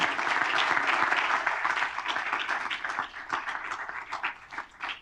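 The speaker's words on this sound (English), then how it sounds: "let's give Jim a round of applause for this afternoon" Audience applause after an afternoon industry talk, a dense roomful of clapping that starts full and strong, then thins out and fades toward the end.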